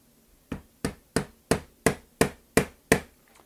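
Eight evenly spaced sharp taps as a Ranger Point Precision Gen 2 handguard is knocked into a snug fit, each strike crisp and close, steady rhythm, no talking.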